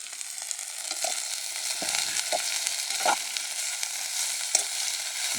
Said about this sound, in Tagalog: Haluin na rin natin yan.